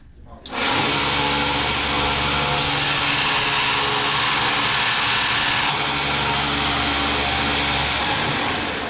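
A steel lathe tool ground against a running belt sander, a loud, steady whirring grind that starts abruptly and holds without pause.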